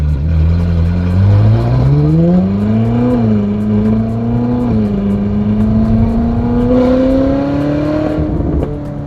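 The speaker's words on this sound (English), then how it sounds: "Now this car has a slight misfire." A race car engine with a slight misfire drones and revs up steadily, pitch rising then dipping near the end, loud and close with no voices.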